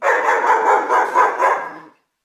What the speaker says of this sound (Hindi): कुत्ते ने भौंक भौंक कर